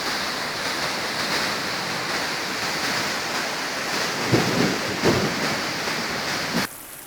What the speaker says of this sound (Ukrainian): Як можна бачити, річка перетворилася на бурхливий потік.